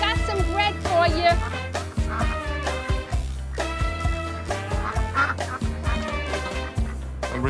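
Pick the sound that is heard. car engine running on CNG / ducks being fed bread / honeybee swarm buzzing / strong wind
ducks being fed bread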